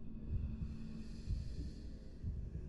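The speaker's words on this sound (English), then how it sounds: "Listen for the heartbeat and you'll know where the ink demon is." Low, muffled heartbeat thumps from the video game Boris and the Dark Survival, marking the nearby ink demon, pulsing steadily under a faint droning hum.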